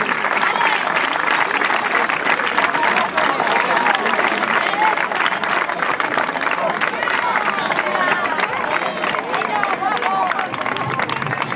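Sustained, loud applause from a crowd at a youth football club's team presentation, dense clapping held steady for several seconds with crowd babble and scattered cheers beneath it.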